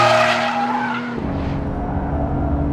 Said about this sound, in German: Kannst auch so leichte Drifts fahren.